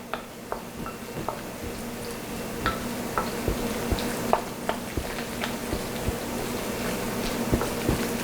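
A spoon stirs a cranberry turkey burger mixture in a bowl, producing irregular soft clicks and scrapes over a low steady room hum, close and fairly quiet with no talk.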